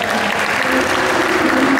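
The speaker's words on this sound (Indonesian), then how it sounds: "Tepuk tangan dong buat mereka berdua" Steady, dense audience applause at a jazz fusion concert, a full crowd clapping continuously and loudly throughout the brief moment.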